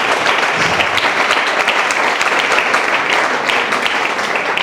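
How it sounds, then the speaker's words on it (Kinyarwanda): A church congregation claps loudly and continuously in praise of God, a dense, even roar of many hands filling the whole stretch with no voices over it. "katuyikomera amashyi"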